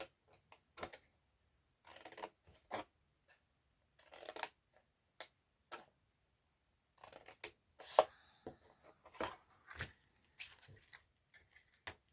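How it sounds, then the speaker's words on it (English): Scissors snip through craft card along a score line while trimming squares for an Autumn/Halloween treat bag, giving short crisp cutting bursts separated by pauses, close and fairly quiet, with no talking. "We're going to cut down and remove that score line again"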